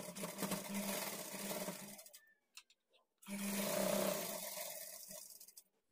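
A sewing machine stitches a blouse lining in two close bursts of rapid, steady whirring, separated by a pause of about a second with small clicks and handling sounds.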